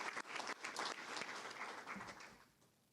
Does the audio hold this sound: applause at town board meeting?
yes